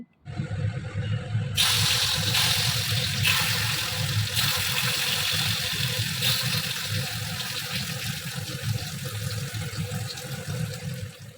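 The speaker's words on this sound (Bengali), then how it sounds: "এবার তেলটাও গরম হয়ে গেছে এবার ভাজি" Cut pointed gourd and pumpkin pieces hit hot oil with a sudden loud sizzle, then fry in a steady, close crackling hiss that continues throughout with no talking.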